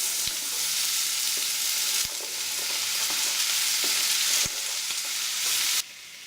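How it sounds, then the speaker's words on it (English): Steady, loud sizzling of onion and celery frying in a pan, with a few sharp clicks of stirring and the hiss easing near the end. "we're going to add this to our frying pan and fry these off"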